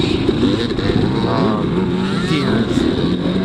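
A 300 dirt bike engine groans steadily up a muddy hill during a rainy hare scramble race, a loud, continuous labored drone heard close up with no talking.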